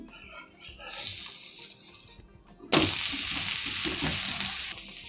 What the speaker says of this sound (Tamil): நம்ம மேலே போட்டிருக்கிற இந்த வெங்காயம்லாம் நல்லா வதங்கணும்.